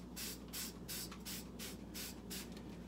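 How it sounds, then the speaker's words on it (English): A hand spray bottle misting a hydrogen peroxide and white vinegar solution onto a tin can, with rapid repeated hissing squirts in an even rhythm, close and steady, with no one talking. "Get nice and wet with this solution of hydrogen peroxide"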